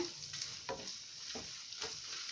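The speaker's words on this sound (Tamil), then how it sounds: "இதை போட்டுட்டு நம்ம ஜஸ்ட்டு ஒரு 2 நிமிஷம் நல்லா வதக்கிக்கலாம்" Chillies and onions sauté in a pan for a homemade chutney, a soft steady sizzle broken by a few scraping stirs of a spoon, close and moderately quiet.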